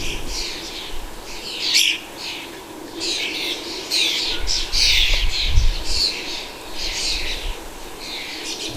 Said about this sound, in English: He pauses his elegant ballet on the slippery metal to listen to and look out for the pesky starlings.